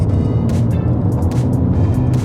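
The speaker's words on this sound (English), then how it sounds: "what do you think is causing my engine to drone" A BMW E90 320d's diesel engine drones steadily from inside the cabin while driving, a continuous low hum with road noise and no speech.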